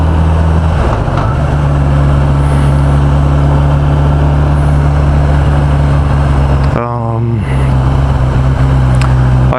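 A Kawasaki Ninja ZX10R sport motorcycle rides through city streets, its engine droning loudly and steadily up close, with a brief dip and a quick rise in revs near the end.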